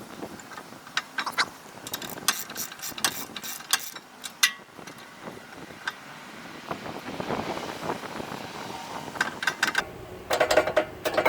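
Socket ratchet loosening long screws on a 2014 Acura MDX rear brake, with irregular close metallic clicks, taps and scraping that come in uneven bursts throughout, without speech.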